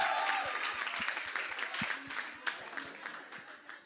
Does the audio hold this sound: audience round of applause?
yes